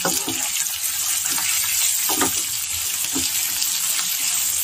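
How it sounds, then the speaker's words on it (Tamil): Curry leaves roasting in a pan give a steady, close sizzling crackle with faint stirring, continuous and moderately loud with no voices. "ஸோ இதை நல்லா இப்போ ரோஸ்ட் பண்ணி வச்சுக்கலாம்."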